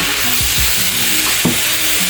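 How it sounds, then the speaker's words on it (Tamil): Pieces of elephant foot yam (senai kizhangu) fry in hot oil with a loud, steady close sizzle and occasional stirring scrapes. "அதனால தான் பொரிச்சு போடுறேன்"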